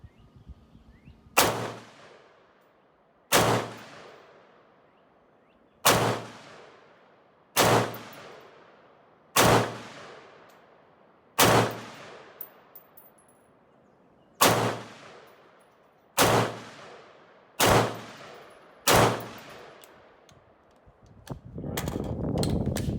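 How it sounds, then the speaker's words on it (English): Ten sharp rifle shots from a Heckler & Koch HK33K ring out one at a time at a steady, unhurried pace, each loud crack trailing off into a short echo, fired unsupported at a target 100 yards downrange. "So let's send a few shots down range and see if that guy makes it or not."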